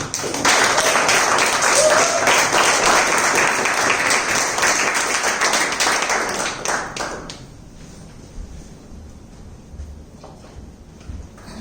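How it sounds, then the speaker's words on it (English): Hands clap in steady, dense applause from an audience at a public speaking session, continuing loudly for about seven seconds before dropping to a quiet room. "With a huge round of applause, please welcome Shruti Shastri"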